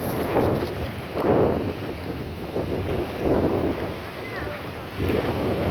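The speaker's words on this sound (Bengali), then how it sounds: "অনেক সুন্দর বাতাস," Wind buffets the microphone in loud, rumbling gusts that swell and fade every second or so, with a constant hiss behind them.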